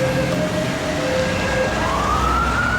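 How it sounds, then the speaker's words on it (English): Emergency vehicle sirens wail continuously at a distance over a busy road junction, their rising and falling tones blending with steady traffic rumble, with no voices. "We can hear the emergency vehicles that have been dispatched from EMAS Art Centre"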